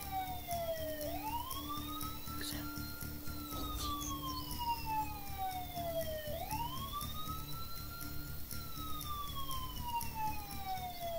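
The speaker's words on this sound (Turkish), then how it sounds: "Ve polis arabası gidiyor." Police car siren in the Thief Simulator video game, a loud wailing tone that sweeps up and down in two long cycles as the car passes, steady over low background game noise.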